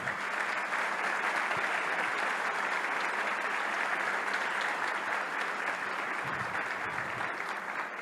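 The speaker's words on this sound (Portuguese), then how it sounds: "Eu pediria uma salva de palmas especial para esse pessoal." Audience applause for a project team at an official masterplan launch event in Guaramirim, a dense, steady wash of many hands clapping that stays loud and even for the whole stretch.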